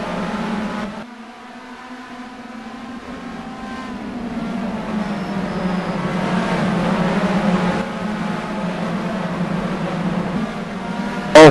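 Race cars pack tightly through the first corner at the Nogaro circuit in a 2012 race, their engines forming a steady, droning roar that slowly swells in loudness across the clip.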